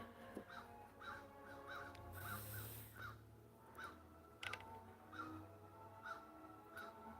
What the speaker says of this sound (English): Hear all the crows?